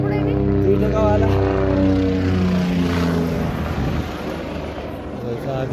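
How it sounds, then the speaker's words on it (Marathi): A helicopter flies over the Kedarnath mountain trail, its loud droning engine and rotor tones sliding downward in pitch as it passes close by, then easing slightly as it moves away. "मित्रांनो बंदच हेलिकॉप्टर दिसू लागला आपल्याला"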